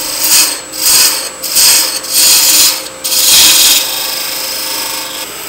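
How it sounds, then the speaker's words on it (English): A skew chisel cuts a wooden plug spinning on a woodturning lathe, with a loud, rasping scrape that comes in several rhythmic passes, then settles into a steadier, continuous cutting hiss near the end. "Get that in the ballpark with my skew chisel."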